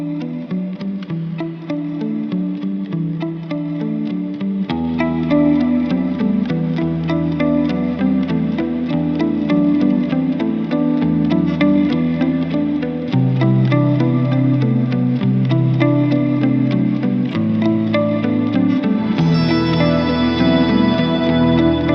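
Layered ambient electric guitar with chorus, echo and reverb plays a steady repeating polymeter riff over a deep bass line, dense and sustained, building toward the end.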